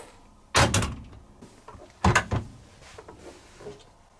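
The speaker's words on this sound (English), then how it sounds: "it will automatically open the door" The door of a V-ZUG Adora SLQ 8 kg washing machine releases and opens with two sharp mechanical clunks a second and a half apart, followed by softer rattles, close and without talk.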